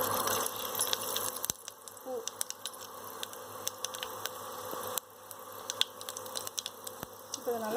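Cinnamon, kalpasi and bay leaf fry in hot oil for a curry leaf biryani, giving a soft, steady sizzle scattered with small crackles and pops.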